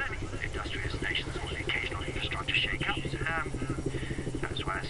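A helicopter in the video game Just Cause 3 gives a steady rotor and engine whir, loud and continuous, with a person speaking over it.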